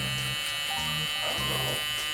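Evo electric hair clippers buzz steadily while cutting a fairly high taper fade, the motor pitch dipping in short repeated strokes as the blade works through hair, close and continuous.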